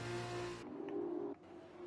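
Race cars in the F1 2020 video game lapping at Great Britain behind the safety car, a steady engine drone that abruptly drops in pitch, then fades and thins, with no talking.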